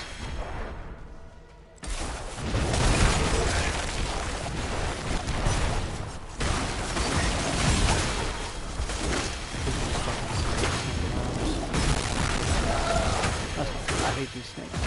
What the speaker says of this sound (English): I set off so many explosions at once with fucking audio bugged